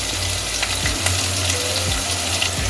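Chopped onion fries in hot oil with dried red chillies and cinnamon sticks, giving a continuous loud sizzle with crackling pops and an occasional stir; no one speaks.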